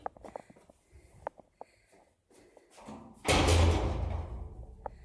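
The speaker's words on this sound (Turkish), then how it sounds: "Kapıyı hızlı bırakınca" A door slams shut after being let go quickly by someone with full hands, giving a single loud, close thud with a broad crash that rings out for about two seconds after quiet, scattered household knocks.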